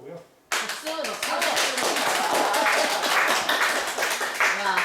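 An audience claps together at a Buddhist temple's basic doctrine class, dense sustained applause starting abruptly and holding steady, close and loud.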